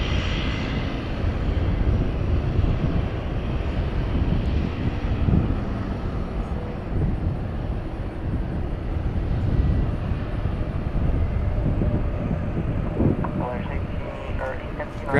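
A Martinair airplane at a busy airport produces a steady, low engine drone that persists throughout, moderately loud, with a voice talking over it.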